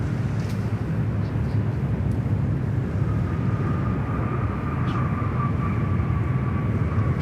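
A Korean Air jet lines up on runway 34 left at Sydney Airport, heard as a steady, distant engine rumble and broadband roar with a faint high whine rising midway, continuous throughout.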